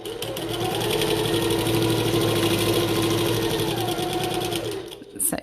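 A sewing machine back-stitching a seam on a bucket tote bag runs in one fast, steady, rapid stitching burst close to the mic for about five seconds, then stops abruptly.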